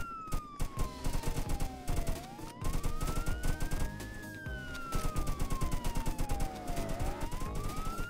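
Rapid gunfire from a shootout in the Roblox game Jailbreak, bursts of shots crackling over a looping police siren that wails up and down, loud and busy throughout.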